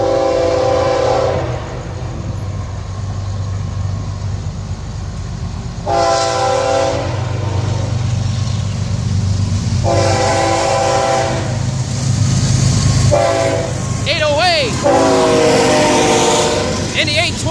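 Florida East Coast Railway freight train 218 rumbles past at milepost 333 between Atlantic and Hammondville Road. It sounds several loud, close horn blasts over the steady roar and clatter of the cars, while people talk nearby.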